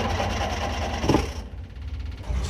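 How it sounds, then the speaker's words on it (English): A new starter motor cranks a Mk2 Ford Escort engine, giving a rapid, even mechanical whirr that breaks off briefly and then resumes, heard up close. "it's a lot quieter than the old starter motor was as well"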